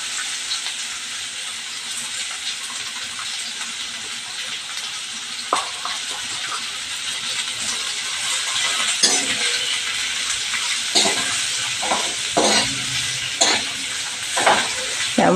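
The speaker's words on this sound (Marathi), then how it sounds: "त्यावर हळद टाकून कारली आपण व्यवस्थित परतूया." Bitter gourd with turmeric sizzles steadily in a pan as it is stir-fried, a constant hiss broken by scraping stirs that grow more frequent toward the end.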